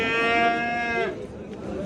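Young cattle low at the Kattaqo'rg'on livestock market, one loud sustained moo close by lasting about a second, followed by murmuring market background.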